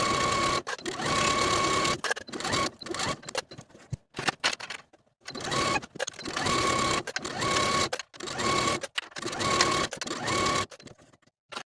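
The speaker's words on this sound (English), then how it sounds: "Then I'll sew the raw edges of each tie with about a 3/8 inch seam allowance from one side to the other" A sewing machine stitches the raw edges of a blouse tie with a 3/8 inch seam allowance, loud close whirring runs broken by short pauses, several bursts in a row with no talk.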